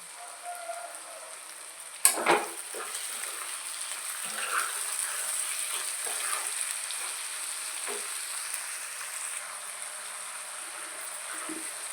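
Tomatoes with salt sizzling in a pan for a Telugu okra and dried prawn curry, a soft, even crackle of frying throughout with a sharp clatter of stirring near the start and occasional scraping.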